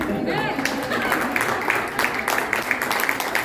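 A church congregation gives a moderate round of applause during a Spanish-language sermon, a steady patter of many hands heard a little distant, with voices murmuring underneath.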